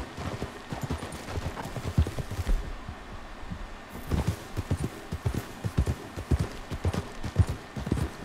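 Horse hooves clip-clop at a steady walking rhythm in the video game Red Dead Redemption 2, moderately close, with low ambient rumble and faint background sounds.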